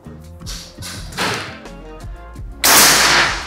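Two sharp shots from a Rahwana V2 air rifle about a second and a half apart, the second louder with a longer hissing burst, over a faint tonal background.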